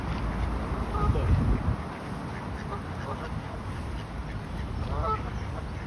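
Ducks and geese being fed outdoors, scattered quacks and honks at moderate distance over wind and ambient noise, with people talking at times.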